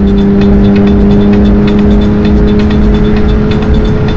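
A car accelerating at high speed with a woman at the wheel gives a loud, steady engine roar with a sustained tonal hum and rushing road and wind noise, with no talking.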